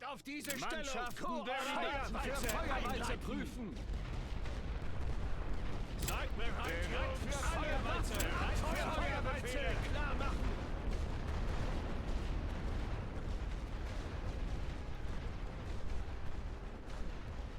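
Artillery in the First World War strategy game The Great War: Western Front booms and rumbles in a steady, heavy barrage of overlapping blasts, with someone talking over the gunfire throughout.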